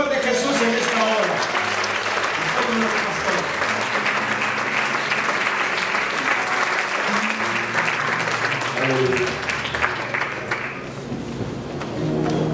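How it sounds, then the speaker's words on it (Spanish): Loud, sustained applause from a large church congregation, dense clapping that holds steady for several seconds, with voices mixed in beneath it. "Denle un aplauso fuerte a Jesús en esta hora."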